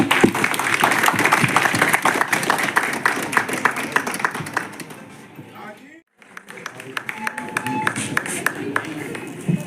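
A crowd at a political gathering claps to welcome a speaker, rapid dense applause with sharp individual claps that fades into a brief lull, then picks up again with scattered clapping.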